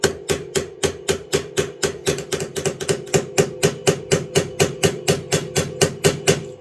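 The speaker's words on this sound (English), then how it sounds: "So I'm just going to use the weight of the hammer. Again, tap it in, let it form" A hammer taps steadily to peen over a brass rivet, about twenty-five bright, evenly spaced metallic strikes up close, each ringing briefly and unaccompanied.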